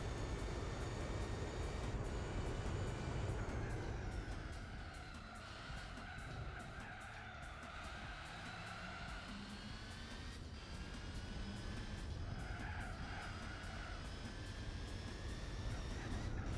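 A race car in a racing video game on its final lap, with a thin, quiet engine note droning steadily and rising and falling in pitch against a loud continuous roar of tire and track noise.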